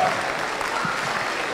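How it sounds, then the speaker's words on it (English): A crowd applauds exhibitors at a youth fair market steer show, a steady, dense wash of clapping that fills the whole moment without letup. "Let's give these exhibitors a real round of applause."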